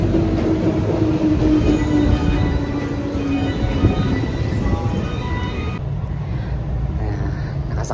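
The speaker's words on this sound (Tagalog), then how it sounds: "sakay na train ni Mario" A train running in Japan gives a loud, steady rumble of wheels on rails with a whining tone that fades after a few seconds, and the noise continues throughout.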